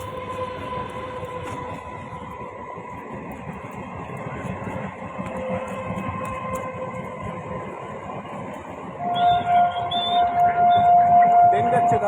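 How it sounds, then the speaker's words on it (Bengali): A Diamond passenger train rolls past on rural tracks nearby, a continuous rumbling clatter that swells louder toward the end with a high squeal or horn tone, under a voice talking. "এই যে ডায়মন্ড ট্রেন যাচ্ছে আমাদের।"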